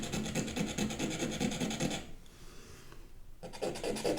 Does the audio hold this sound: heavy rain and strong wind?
no